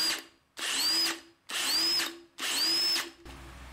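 A Milwaukee cordless drill, modified to run through an inrush current limiter, spins up in three quick bursts with a rising motor whine, each stopping sharply before a short silence, close and clear with no talk.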